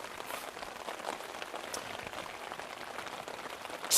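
Rain patters steadily on a FORCEATT two-person dome tent, a soft, even hiss of countless small drops heard from inside, quiet and unbroken.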